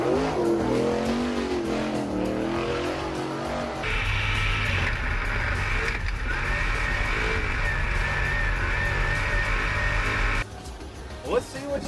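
A race car in the iRacing driving simulator holds a loud, sustained engine whine for several seconds, then drops off near the end. Engine rumble fills the whole stretch.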